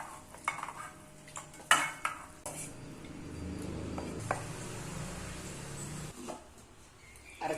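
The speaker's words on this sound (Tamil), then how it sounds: "இப்போ இதை மிக்ஸி ஜாருக்கு மாற்றிக்கலாம்" Curry leaf mixture being moved into a mixer jar, with scattered clinks and scrapes of a spoon against metal pots and utensils, a few sharper knocks among softer rustling shuffles, fairly quiet and without talk.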